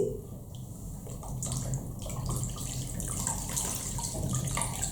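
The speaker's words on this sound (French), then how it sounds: "je vais rincer mon visage." Tap water runs steadily into a bathroom sink for rinsing the face after makeup remover, a close, continuous splashing wash that swells slightly as hands move through it, with no talking.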